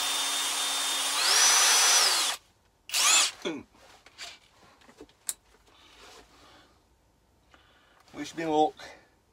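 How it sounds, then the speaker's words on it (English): A small power drill bores through a part in a home workshop, a loud steady whine for about two seconds that rises in pitch, then stops, followed by scraping handling noises and brief talk. "start with a small drill"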